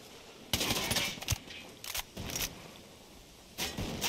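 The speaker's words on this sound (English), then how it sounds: "Taking fire." Bursts of gunfire from the video game Ghost Recon Wildlands: several loud, sharp volleys in quick succession at about half a second, two seconds and three and a half seconds, with quieter gaps between them and no talking.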